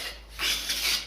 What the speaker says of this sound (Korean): 기고대를 이용해서 살살 긁어냅니다